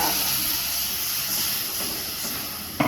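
A cup of water poured into hot oil in a pan sets off a loud, steady steam hiss that fills the whole moment, ending in a brief clatter.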